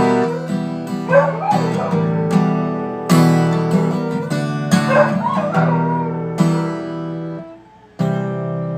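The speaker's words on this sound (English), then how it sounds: "That is the perfect song for a dog to be howling in the background" A dog howls and yips along to a slow song, long wavering cries rising over the music in repeated phrases, close and prominent.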